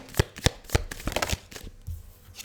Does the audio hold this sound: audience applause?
no